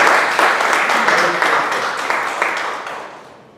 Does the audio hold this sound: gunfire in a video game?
no